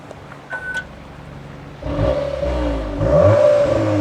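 A VW T-Roc R engine in sport or race mode revs hard, its tone climbing and growing louder in two surges after a short beep, close and with no talking.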